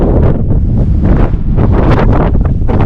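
Cold wind buffets the microphone at the top of the Fairy Glen on the Isle of Skye in autumn, a loud, continuous low roar with gusting surges and no talk.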